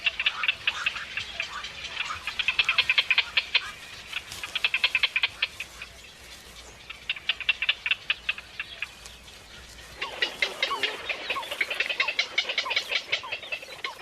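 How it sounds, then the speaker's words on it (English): Young night herons begging while being fed, a rapid chattering of high, raspy ticking calls in repeated bursts with short pauses between, fairly close and continuous over the scene. "Watching young night herons being fed adds a new dimension to the phrase,"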